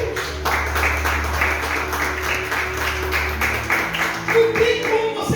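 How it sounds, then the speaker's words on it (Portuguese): Church congregation clapping for God during a sermon, a steady crackle of many hands over a low sustained hum and faint tones, continuing for several seconds at moderate loudness. "Você pode aplaudir a Deus?"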